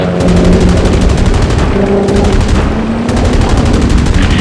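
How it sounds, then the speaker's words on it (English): Rapid machine gun fire during a Spitfire attack on an Arado floatplane in aerial combat, with loud continuous bursts over a dense roaring background and brief pauses between volleys. "Schlenker was hit fatally by fire from one of the Spitfires, and the rear gun of the Arado fell silent"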